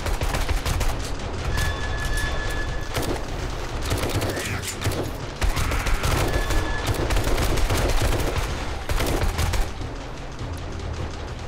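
Rapid bursts of gunfire from weapons in 7 Days to Die during a massive zombie horde night, dense continuous volleys of shots layered over one another, loud and close with no pauses.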